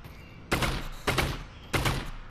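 Three loud gunshots from a weapon in the VR game Half-Life: Alyx, fired at roughly half-second intervals, each a sharp broadband crack with a short ringing tail, no talking.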